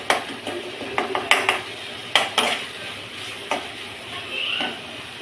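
Bitter gourd sautéing with chili powder, turmeric and asafoetida, close-up, with a steady sizzle under repeated sharp scrapes and clinks of a spoon stirring in the pan, no talking.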